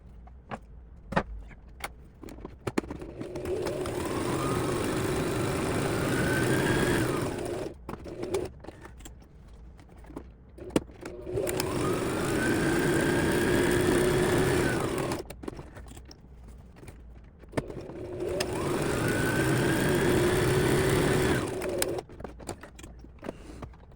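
Sewing machine running a zigzag stitch at width 4 on a tote bag, three sustained bursts of close, rhythmic whirring separated by brief pauses with small handling clicks.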